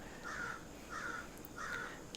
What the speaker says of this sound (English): I wonder if the microphone could pick up the crows.